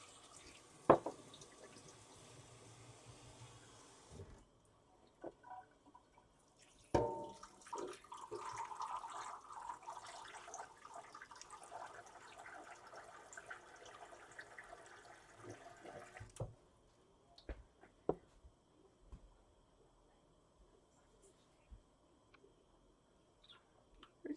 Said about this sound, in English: And I'm going to add warm water.